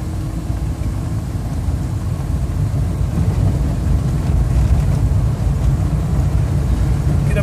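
A 1965 Imperial LeBaron with a 727 transmission cruises near 60 mph on a bumpy country road, its steady engine and road rumble continuous and loud with wind noise, no talking.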